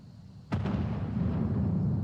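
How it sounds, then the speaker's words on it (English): A single cannon blast in Final Fantasy XIV: a sudden booming report followed by a sustained low rumbling roll, with a second sharp burst arriving right at the end. "Cannon fire! Where did it come from?"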